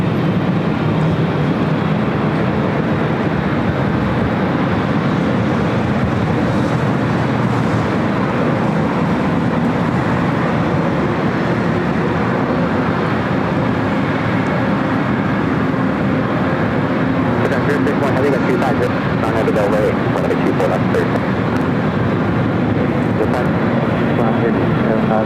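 Heavy widebody airliners at Los Angeles LAX airport, heard as a continuous, loud roar of jet engines that holds steady throughout with a broad wash of noise and no clear breaks.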